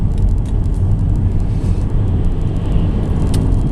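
A Subaru Outback SE converted to LPG drives on the road and overtakes a lorry, a steady, loud low engine and road rumble running continuously with no talk.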